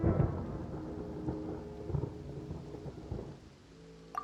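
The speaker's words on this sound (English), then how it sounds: "Paimon used thunder!" Thunder rumbles through a stormy scene in the video game Genshin Impact, summoned as an attack by the character Paimon: a loud opening crack settles into a rolling, heavy low rumble with scattered thuds, fading near the end.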